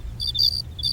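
Cricket chirps in short repeated high-pitched pulses, three bursts over a low hum, clear and alone.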